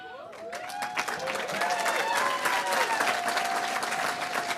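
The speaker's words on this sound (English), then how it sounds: "one more round of applause" Steady audience applause fills a graduation celebration for a physician assistant class of 2022, many hands clapping continuously at moderate loudness, with scattered voices and faint cheers mixed into the crowd.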